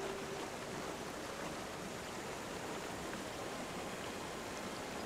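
Steady rushing water of a waterfall near a river in Guild Wars 2, a broad continuous wash of noise holding constant and fairly close throughout with no voices.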